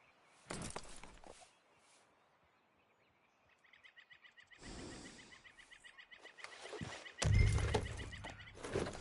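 A horse in the video game Red Dead Redemption 2 snorts and whinnies in short bursts, with hoof steps and tack jingling between them, fairly close and louder toward the end, no voices.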